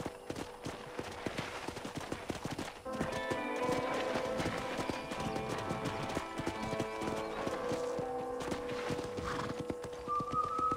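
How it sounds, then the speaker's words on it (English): Horse hooves clip-clop rapidly in a galloping rhythm in Red Dead Redemption, steady and close, under a layer of background music, with a brief whinny. "let's see if you can still ride a horse"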